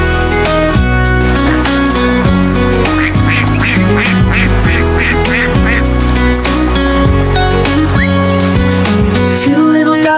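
Repeated duck quacks sound over loud, steady music, coming in a quick series in the middle of a children's nursery rhyme song.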